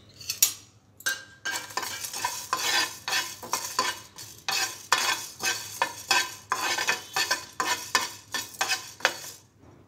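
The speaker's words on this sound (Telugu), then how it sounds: "ఎండు కొబ్బరి ఫ్రై చేసిన తర్వాత ధనియాలు వేసుకోవాలి। ఇందులో కొద్దిగా దాల్చిన చెక్క వేసి ఫ్రై చేయాలి" Dry coconut, coriander seeds and cinnamon being dry-fried in a pan, with a spatula scraping and stirring in a steady repeating rhythm, close and fairly loud over a faint sizzle.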